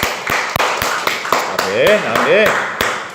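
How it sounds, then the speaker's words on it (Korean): A church congregation at an Easter Sunday worship service gives applause. The claps are spaced and fairly even, with a voice singing or speaking over them. "우리 부활하신 주님께 우리 힘찬 영광의 박수 한번 올려드리도록 하겠습니다."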